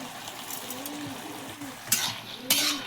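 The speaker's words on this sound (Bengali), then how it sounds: "ভাজা মশলা দিয়ে আমি ভালো করে নেড়ে চেড়ে চিনি দিয়ে দিলাম" A spoon stirs pumpkin curry with fried ground spices and a little sugar in a pan, soft scraping with a gentle sizzle and two sharper clinks near the end.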